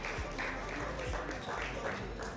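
Wedding guests applaud at a reception during the speeches, a steady wash of clapping that runs the whole time with voices mixed in.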